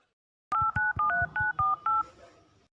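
A telephone number is keyed in on a phone, giving eight crisp dual-tone beeps in a quick, slightly uneven rhythm, close and clear with no talking, in a comedy series scene.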